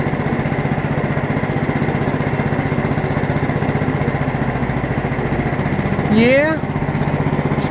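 A 1959 Case 700 tractor fitted with an 11hp Honda engine idles nearby with a steady, rapid putter, and a brief high squeak cuts in near the end while a voice speaks briefly.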